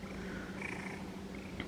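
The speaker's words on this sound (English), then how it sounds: "Listen to them, the loud purrs." Several cats purr close by, a low continuous rumble that is soft overall, with faint room noise around it.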